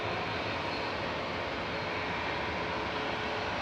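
An EasyJet Airbus A320neo, five years old, departing Manchester for Lanzarote, gives a steady, broad roar of jet engine noise that holds constant throughout the short stretch, without any voices.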